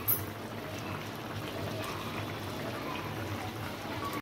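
A pot of red meat curry broth boils steadily on the stove, giving a continuous, fairly loud bubbling simmer that stays even throughout, with no voices.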